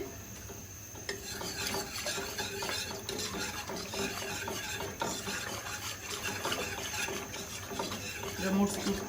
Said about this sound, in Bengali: সুন্দর করে মিক্স করে নিতে হবে।